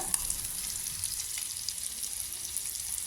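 Eggs fry in masala in a pan over a low flame, giving a constant close-up bright sizzle with faint crackles and pops throughout.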